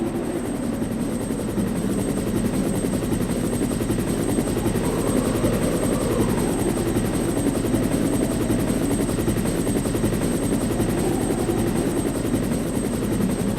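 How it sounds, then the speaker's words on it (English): Helicopter landing in the PlayStation Resident Evil Director's Cut, a loud, steady rotor drone that holds throughout with no voices. "Just hurry up and land the helicopter and get us the hell out of here, Brad, please."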